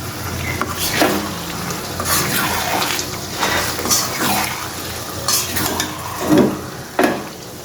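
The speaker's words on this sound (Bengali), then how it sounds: "আরেক হাতে নাড়া দিলে দেখেন কড়াটা কেমন নাড়াচাড়া করে" Food is stirred in a kadai with coriander leaves added: repeated scraping strokes of a spoon against the pan over a soft sizzle, close and fairly loud, with no talk.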